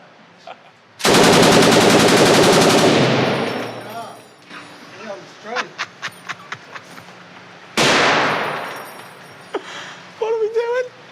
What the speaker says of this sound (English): They were warning shots.